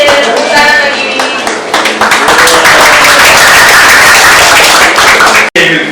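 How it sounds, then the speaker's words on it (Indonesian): An audience claps at a WebMaker App for Android event, a burst of dense applause mixed with cheering voices that carries steadily for several seconds before cutting off abruptly near the end. "tepuk tangan lagi"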